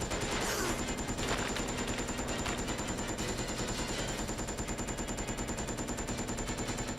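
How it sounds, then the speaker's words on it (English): Continuous rapid enemy gunfire in the Resident Evil: Code Veronica X game, a steady machine-gun-like rattle of evenly spaced shots that runs unbroken throughout, fairly quiet and heard alone. "And then we have this ass clown shooting at us"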